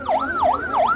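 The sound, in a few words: ambulance siren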